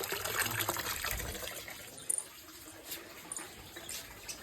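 Water is poured by hand at a rural home, a broad splashing trickle that runs steadily for the first second and a half, then thins to faint drips and small splashes over low background noise.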